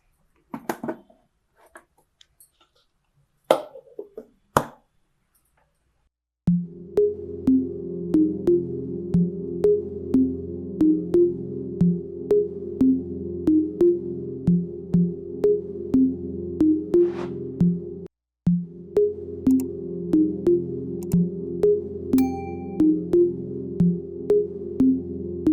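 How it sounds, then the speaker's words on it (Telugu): A kitchen mixer grinder churns soaked rice and urad dal with a little water into batter for festival boorelu, droning loudly with a rhythmic knocking, pausing briefly, then running on again. "దాన్ని నేను మిక్సీలో వేస్తాను."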